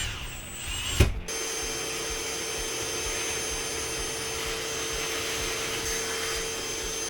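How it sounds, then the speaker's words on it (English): A drill bores a hole at an angle through the interior wood framing of a camper. After a brief knock, a steady, loud motor whir runs unbroken for about six seconds. "I drilled my hole and went up at an angle."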